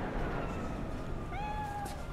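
A sphynx cat in the Cyberpunk 2077 game lets out a single short meow near the end, fairly faint against a dense, constant background of city noise.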